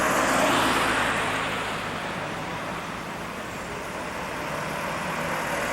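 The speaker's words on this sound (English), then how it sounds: "There's a lot of cars," Steady car traffic passes near a street intersection on Massachusetts Avenue in Lexington, a continuous close roadway rumble of engines and tires with no talk.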